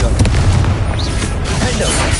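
Fiery spell blast in Hogwarts Legacy, a game: a dense, booming explosive rumble with crackling bursts running through the whole moment over busy game noise.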